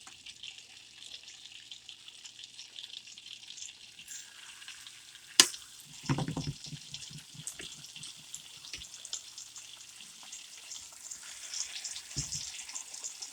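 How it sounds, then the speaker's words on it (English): Chicken pieces sizzling in a hot pan as they sear, a steady hiss with a sharp crackling burst when pieces go in, followed by softer clatters and fizzing. "I think we're going to start to sear these pieces now."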